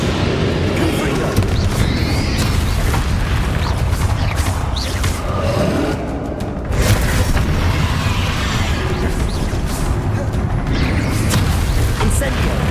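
Confringo fire spell explosions in Hogwarts Legacy combat, a dense run of loud booming blasts and crackling bursts over game music and effects, with a brief dip midway.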